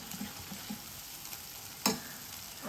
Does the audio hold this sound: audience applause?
no